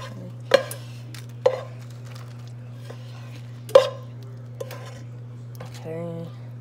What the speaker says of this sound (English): And I'm gonna put some hamburger meat on, some taco meat